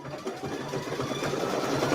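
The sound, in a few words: embroidery machine sewing a blanket stitch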